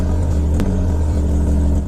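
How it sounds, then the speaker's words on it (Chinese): A small truck's engine, overheating with a blown head gasket, idles in a steady, loud, close low rumble with a constant mechanical drone and no pauses. "启动发动机"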